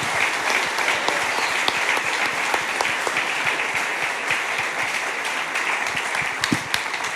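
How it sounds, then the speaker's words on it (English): Sustained audience applause for a speaker panel at a church evangelism event, a full, even roar of many hands with crisp individual claps popping out, loud and close throughout. "Can we give these guys a massive round of applause?"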